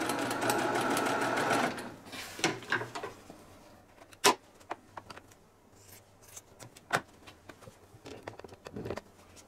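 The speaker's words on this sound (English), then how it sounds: "I put the end of the drawn line right on the end of my diagonal seam tape on the red" A sewing machine stitches quilt star points along a drawn diagonal line, running in a fast steady whir for about two seconds, then stopping. Scattered clicks and light handling taps of fabric and tools follow.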